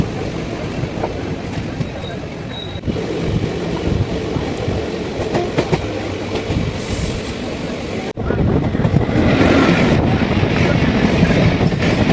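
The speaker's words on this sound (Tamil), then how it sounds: "வாங்க மதுரையில் இருந்து நம்ம ஸ்டார்ட் பண்ணலாம் நம்முடைய ட்ரெயின் ட்ராவல்" Inside the Madurai–Coimbatore passenger express, the train rolls along with a steady, loud rumble and rhythmic clickety-clack of wheels on rails. The noise grows heavier partway through.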